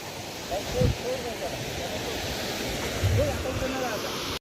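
Steady roar of surf washing onto the beach at Alibag, with a couple of louder wave surges breaking through the continuous wash.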